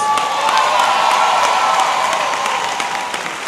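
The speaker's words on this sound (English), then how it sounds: "another round of applause" Sustained applause from a large crowd at a high school graduation ceremony, loud and steady, with scattered cheers mixed in, slowly easing toward the end.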